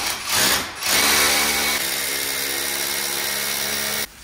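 A power drill bores holes into a wall for a TV mount, a loud, steady grinding whir running close and continuously for several seconds before cutting off abruptly.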